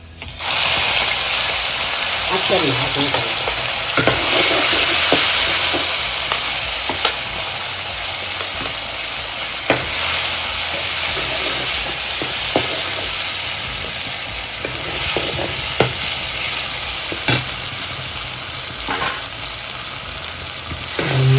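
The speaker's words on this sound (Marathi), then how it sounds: "तिखट चटणी अशी छान तेलात परतवून घ्यायची" Onion, garlic and red chili chutney fry in oil over a wood stove, giving a loud, steady sizzle and hiss for the whole stretch, with occasional scraping stir sounds and no talking.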